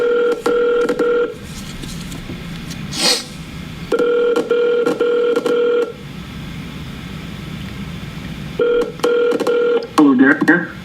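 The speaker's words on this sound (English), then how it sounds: "Well, he didn't answer, so I'll call him again." Telephone ringback tone from an outgoing call, repeated electronic ring bursts in a regular pattern with pauses, loud and close, with brief speech between the rings.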